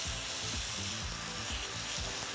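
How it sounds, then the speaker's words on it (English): Lean steaks sizzle on a hot non-stick grill surface, a close, steady hiss of frying with soft scraping textures underneath and no talking. "And you can already hear that sizzle."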